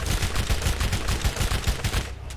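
Rapid automatic gunfire in Borderlands, a fast continuous rattle of shots, loud and close, ending abruptly after about two seconds.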